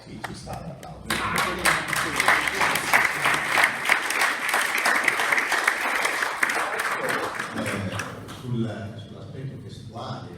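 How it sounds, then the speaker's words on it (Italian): An audience at a talk on the Sardinian hymn Deus ti salvet Maria bursts into steady applause that holds for several seconds and then fades, with people speaking just before and after the clapping. "Sì, ci sta l'applauso."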